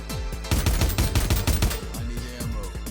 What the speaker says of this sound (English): The suppressor itself, a bit loud, honestly, for a suppressed weapon.